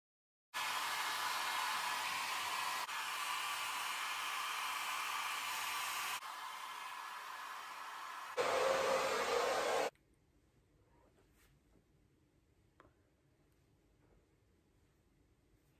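A hair dryer blows steadily at close range, shifting speed a couple of times before cutting off, leaving quiet room noise with faint clicks.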